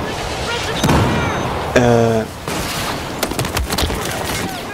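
M416 assault rifle fire in the video game PUBG, several quick bursts of close, loud shots with game effects layered in, heard under a voice talking over the action.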